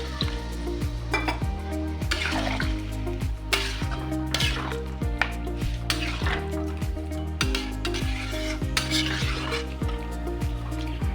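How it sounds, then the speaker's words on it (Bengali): Chicken offal curry with potatoes and vegetable stalks sizzling loudly in a pan after water is added, a steady bubbling fry with faint stirring and utensil clinks throughout. "এখানে এবারে জল দিয়ে দেবো। জল দিয়ে দিলাম।"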